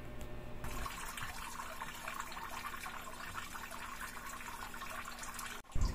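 Water pours steadily from the water pump outlet of an air cooler, a close, continuous splashing rush that holds level throughout and ends with a brief handling knock.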